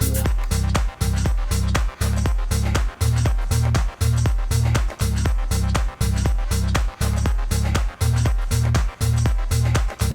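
A synth line with tremolo pulses in steady, evenly chopped bursts, its volume rising and falling rhythmically with a strong low end throughout, no voices, in a house music track.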